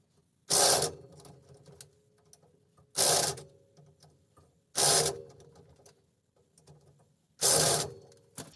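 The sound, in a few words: impact driver tightening wheel adapter studs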